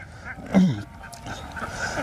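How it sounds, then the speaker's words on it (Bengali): Egg-laying ducks on a duck farm, more than a thousand of them roaming a wetland, give out one nasal quack partway through, with faint outdoor murmur and distant calls around it. "আমাদের এখানে 1000+ হাঁস রয়েছে, যেগুলা হাওরে আমরা ছেড়ে রেখেছি।"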